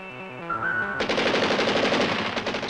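The AMX-32 tank's cannon-machine gun fires a rapid, loud burst of rhythmic shots that sets in abruptly after a brief tonal intro and keeps rattling steadily to the end.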